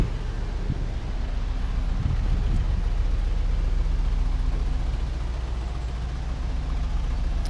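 A 1964 Lincoln Continental engine runs at a steady low rumble under continuous wind noise, with no talking.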